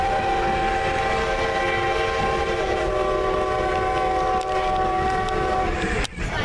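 Strasburg Railroad train rolling along the rails, a steady loud rumble with sustained tonal squeal and hum throughout, ending in a sharp clunk near the close.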